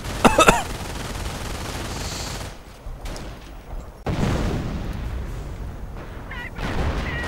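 A video game battle rattles with clustered gunfire and artillery barrage booms, a sharp volley opening the stretch followed by mid-distance rumbling blasts and bursts of shooting.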